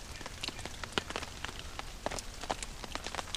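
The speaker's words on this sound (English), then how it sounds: "As you can tell, the rain let up a lot so far." Light rain pattering at a campsite after a thunderstorm, a steady soft patter with scattered nearby drops striking a surface, moderately faint and alone without voices.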